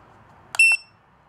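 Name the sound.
radiation dosimeter alarm beeping, NUCTEST F6000 Geiger counter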